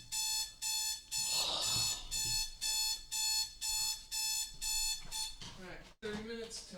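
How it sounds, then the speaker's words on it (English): Alarm clock ringing in a rapid series of repeated electronic beeping bursts, fairly loud and regular, with a voice briefly talking over it and more speech at the end. "Oh, I thought I heard the alarm."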